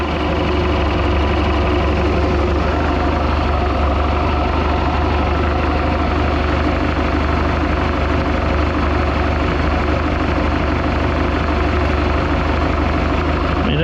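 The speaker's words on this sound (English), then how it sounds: "a smooth idling machine there" A 1976 Mark Twain boat's Mercruiser 120hp engine idles with the cover off during a tune-up, a steady, even low rumble throughout, loud and close, with a voice talking over it.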